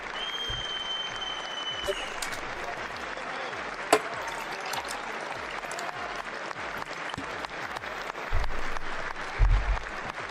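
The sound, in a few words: thunderous applause at State of the Union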